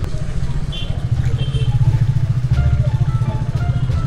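A KTM Duke 390 motorcycle is being ridden, with a loud, close engine rumble that pulses steadily throughout while the rider carries it along the road, wind noise over the top and no talking.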